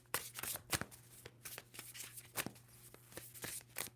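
Tarot cards being shuffled by hand, a series of crisp riffling flutters and sharp slaps coming in quick irregular bursts, close and fairly quiet over a low steady hum.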